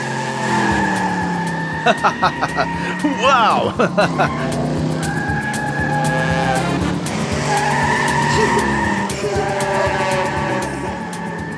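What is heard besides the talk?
cartoon car driving and skidding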